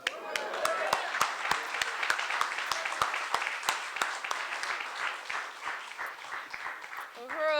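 Crowd at a party congress plenary gives a sustained round of applause welcoming new party members, dense clapping running steadily with a few sharp individual claps standing out, fading slightly near the end.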